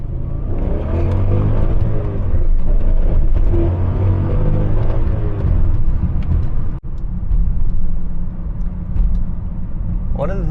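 A BMW E39 M5 V8 with individual throttle bodies revs and pulls from inside the car, a loud rising and falling engine roar with sharp throttle blips, as someone talks over it.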